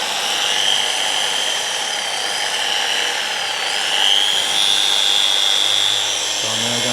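A machine polisher buffs car paint at a reduced speed on a McLaren Senna, giving a steady high whine that holds at a moderate level throughout, with small shifts in pitch as the pad moves.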